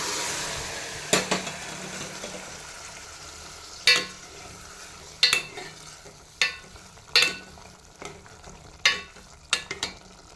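Boiled vegetable pieces fry in a pan with a faint sizzle under a series of sharp scraping clacks from a spatula stirring, irregular and close, with no one speaking.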